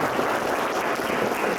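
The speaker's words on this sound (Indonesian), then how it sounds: "Tepuk tangan dulu." Lecture audience applauding a visiting doctor at a public university lecture, a steady dense wash of clapping from a crowd, continuous and even throughout with no talk over it.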